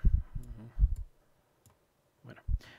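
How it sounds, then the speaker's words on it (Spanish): Computer mouse clicks while browsing in the Zotero reference manager, a few low soft taps followed by two sharp clicks near the end, over a quiet background. "le voy a dar clic"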